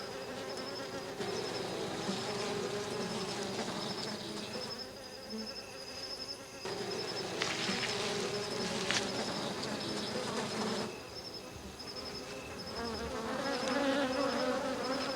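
Honeybees buzz around their hives at night, a dense continuous drone of many insects that swells and dips slightly, heard alone without any voices.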